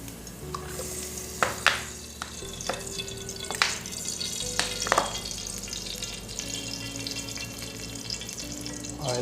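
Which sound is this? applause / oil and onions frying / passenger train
oil and onions frying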